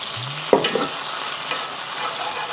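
A sauce of soy sauce, dark soy sauce, oyster sauce and sugar heating in a pan: a sharp utensil clink, then a soft, low sizzle that fades.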